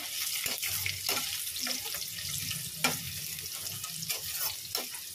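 Onions sizzling in hot oil seasoned with whole garam masala, cardamom and cinnamon, for an egg korma: a steady close crackle with occasional stirring scrapes and no talking.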